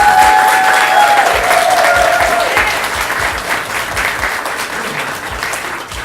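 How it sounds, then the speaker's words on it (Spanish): Loud, sustained applause from an audience at a Broad Street signage unveiling, honoring Marilyn Cepeda, steady dense clapping across the whole stretch with a few brief whistles or cheers near the start. "Por favor, un fuerte aplauso para Marilyn Cepeda"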